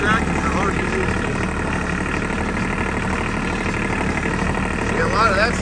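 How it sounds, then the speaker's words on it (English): A tractor engine runs steadily while bush hogging an off-camber field behind a house, a close, continuous mid-pitched drone with rattling vibration and faint squeaks near the start and end. "This tractor's a hard to use."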